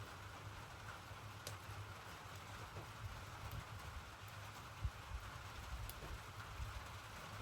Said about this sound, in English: We'll just drink beer and listen to rain tonight.